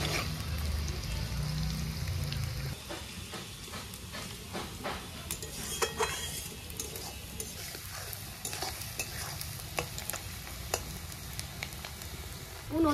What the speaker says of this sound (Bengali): আর ফোড়নে শুকনো লঙ্কা, তেজপাতা, জিরে, গরম মশলা, পেঁয়াজ কুচিগুলো ভাজা ভাজা হয়ে গেলেই